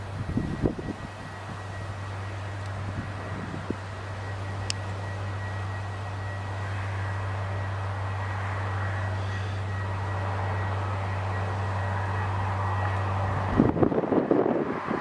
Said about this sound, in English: here's the British Airways from London Heathrow. Just about a touchdown here.